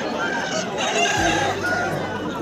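Chickens and roosters at the busy Taltol poultry market in Purulia, West Bengal, clucking and crowing close by while people talk over the crowd noise.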